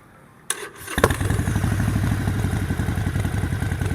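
A 2019 Harley-Davidson Forty-Eight motorcycle engine starts with a sharp crank and catches, settling into a loud, lumpy, throbbing idle that rumbles steadily up close.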